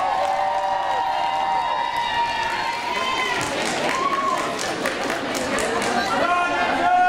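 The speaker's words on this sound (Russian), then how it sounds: "Ваши аплодисменты!" A concert crowd at a spring student show applauds and cheers: dense, loud clapping and shouting fill the hall, with a voice over a microphone carrying above the noise.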